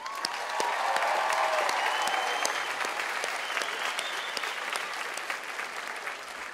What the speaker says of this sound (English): I would like to start by giving a round of applause to the parents, the families, the friends of our graduates.